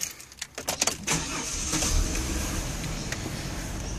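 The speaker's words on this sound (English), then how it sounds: "For that purpose, we start the engine" Holden car engine cranks with a few quick clicks and turns over, then settles into a steady close idle hum.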